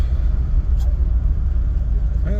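Steady low rumble of a 1959 Cadillac Fleetwood being driven, heard from inside the car, with a brief faint knock and a short voice at the end.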